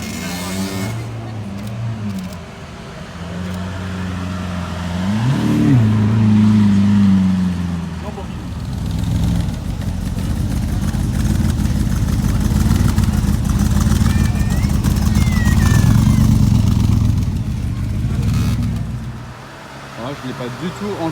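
A Lamborghini Aventador S engine roars close by, building and holding a loud, throaty drone before fading, with people talking faintly underneath, on a street in Monaco.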